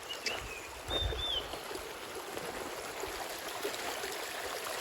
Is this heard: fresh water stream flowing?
yes